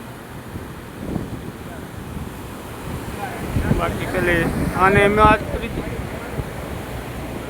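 Overflowing river swollen by heavy rain rushes steadily beneath gusty wind noise, while someone talks over the flood for a few seconds midway.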